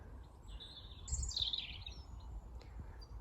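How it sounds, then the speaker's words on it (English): Magpies call around an allotment plot, giving a few faint, high chattering notes over quiet outdoor background. "Look at all the magpies in there."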